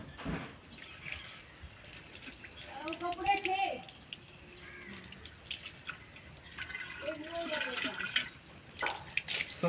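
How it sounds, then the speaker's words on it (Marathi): Clay pots are rinsed with clean water, with gentle splashing, pouring and dripping up close, while a voice speaks briefly in between. "पहिल्यांदा मटका आपण धुवून घेऊया स्वच्छ पाण्याने."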